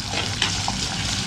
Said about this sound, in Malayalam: ഇനി ഇതൊക്കെ നന്നായി ഒന്ന് വഴറ്റിയെടുക്കാം.